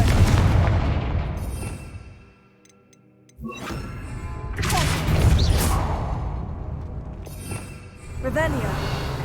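Confringo fire spells exploding in Hogwarts Legacy, loud bursts and rumbling blasts with a brief lull in the middle, mixed with game sound effects and voices.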